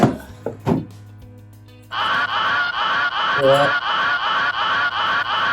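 After a couple of knocks, a worn pulley bearing from a 2005 Chevrolet Corvette, with the belt removed, spins with a rough, rhythmic grinding whir that pulses steadily and stays close and fairly loud.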